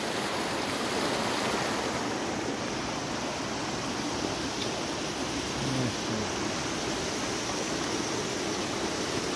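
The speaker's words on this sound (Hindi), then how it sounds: "ये पूरा देरा गली की जितनी रोड है उसका पानी यहाँ आ रहा है।" Rainwater runoff from the road pours steadily past a mosque, a continuous broadband rush of flowing water with no talking.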